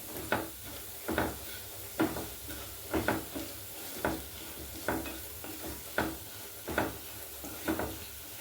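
Garlic, ginger and onion fry in a pan as a steady sizzle, broken about once a second by sharp, regular knocks of a spoon stirring against the pan, close and with no talking.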